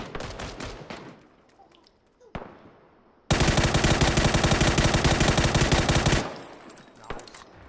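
PUBG gunfire: a few scattered shots come first, then a dense, loud automatic burst rattles continuously for about three seconds before cutting off, with faint game ambience around it.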